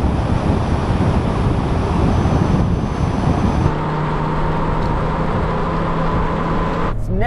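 Small cars, a Kia Picanto and a Citroën Ami among them, accelerate hard in third gear from 50 mph in a rolling half-mile drag race, a loud, steady engine drone that changes to a droning tone midway.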